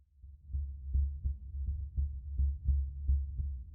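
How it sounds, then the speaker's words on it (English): Heartbeat sound effect from the video game Tiny Bunny: a deep, muffled lub-dub thumping in an even, steady rhythm, about eight beats, close and alone in an otherwise silent space. "The place became so silent that I could hear Polina's heart beating."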